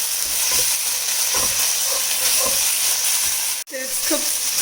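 Prawn biryani ingredients sizzle and fry steadily in a pan, a loud constant hiss with occasional stirring scrapes and one brief dropout, while someone talks over it.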